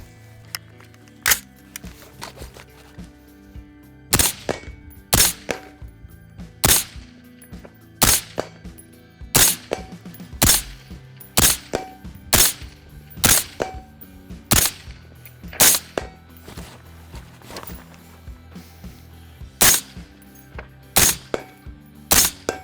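A Daniel Defense M4 automatic rifle in Ukrainian armed forces service fires roughly two dozen sharp, loud shots, singly and in quick pairs at irregular intervals, with no talking.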